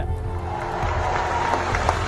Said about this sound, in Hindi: जोरदार तालियां इनके लिए भी बनती है